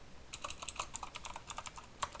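Someone types code on a computer keyboard while building a Python Pong game, a quick irregular run of light, close key clicks over a faint background hiss.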